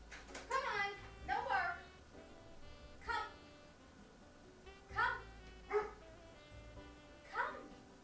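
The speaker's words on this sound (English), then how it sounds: "I had to let them back in because they were barking and it's too early to bark" Dogs bark indoors in short, repeated bursts spaced a second or two apart, fairly close and moderately loud over a quiet room.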